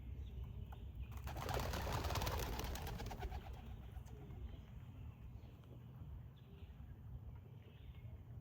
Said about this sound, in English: as the doves are released